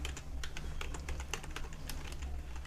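Python code for a Pygame game typed on a computer keyboard: a steady, fast stream of close, crisp key clicks over a low background hum, with no voices.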